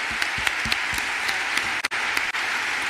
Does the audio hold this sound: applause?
yes